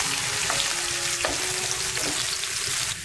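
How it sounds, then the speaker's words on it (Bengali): Onion fries in oil for a pumpkin dal tempering, stirred until golden brown: a dense, close sizzle with a few spoon scrapes and clinks, ending abruptly. "এখন নেড়ে চেড়ে পেঁয়াজটাকে আমি গোল্ডেন ব্রাউন কালার করে ভেজে নিব।"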